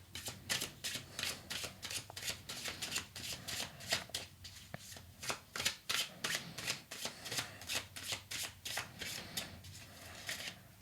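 Tarot deck of the Black Madonna oracle being shuffled by hand, a quiet, steady run of rapid riffling card flutters repeating for several seconds, close and soft with no talking.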